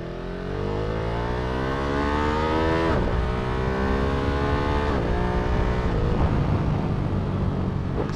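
A Ducati Monster motorcycle engine revs up close and loud, its pitch climbing through a long pull. A few sharp throttle blips follow, each rising and then dropping back.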